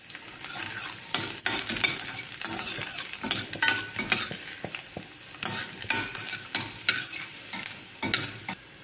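Garlic frying in a little oil for a garlic methi curry, stirred steadily with a utensil: a continuous close sizzle broken by repeated scraping strokes, with no voices.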